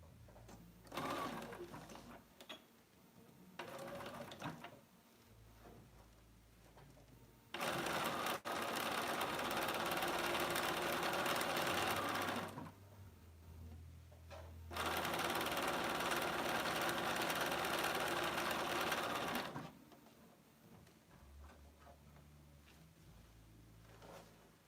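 Domestic sewing machine with a dual feed foot stitching Kaffe Fassett cotton fabric for oven mitts, running in two long loud bursts of steady whirring stitching, with quieter handling and fabric shuffling between runs.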